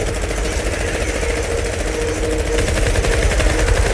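A minigun in the Fortnite video game fires continuously, a dense rapid rattle of shots that stays loud and unbroken throughout, with no talking over it.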